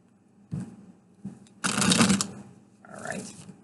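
Tarot cards being shuffled by hand in quick riffling bursts, a few short flicks followed by a longer dense ruffle and a final softer shuffle, close and crisp.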